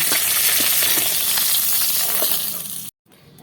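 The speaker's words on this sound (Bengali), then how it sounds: "তেল দিয়ে গরম করে নিয়েছি মাছ দুটো দিয়ে ভেজে নেব" Bhola fish fries in hot oil in a pan with a loud, steady crackling sizzle, close by, before cutting out abruptly near the end.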